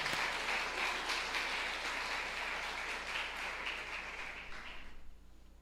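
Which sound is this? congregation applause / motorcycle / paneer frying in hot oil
congregation applause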